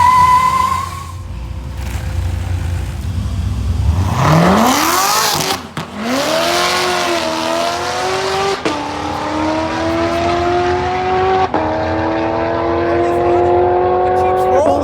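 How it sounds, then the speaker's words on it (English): A 2020 Coyote-powered car with a 10R80 transmission on an E85 tune launches down a dragstrip, its engine revving loud and close and then pulling away, with each gear change marked by a sharp drop in pitch. "The Jeep's rolling."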